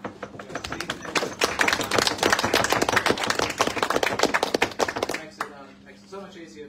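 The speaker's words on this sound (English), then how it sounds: "So big round of applause and thanks to the staff." An audience at a talk on New Zealand's housing crisis applauds the staff: dense, steady clapping from many hands fills the room for about five seconds, then fades to a few scattered claps.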